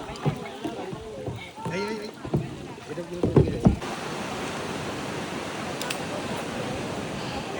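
Kayak paddling on the water at Kola beach in Goa, with paddle splashes and a steady wash of water and surf. People talk excitedly over it early on, then the water noise carries alone.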